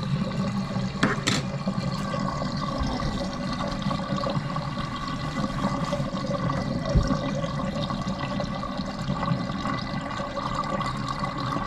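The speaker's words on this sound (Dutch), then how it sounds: "Ik kan nu het water uitlaten." Dishwater drains out of a kitchen sink after washing up, a steady gurgling rush of draining water with a few small knocks, moderately close and continuous with no talk.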